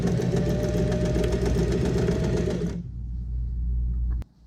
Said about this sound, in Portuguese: vou costurar com essa margem da sapatilha, uma costura normal